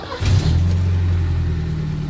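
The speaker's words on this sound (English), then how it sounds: "let's start up the car" A Mercedes-Benz W123 230E starts with a quick crank, then its engine settles into a steady, loud, close idle.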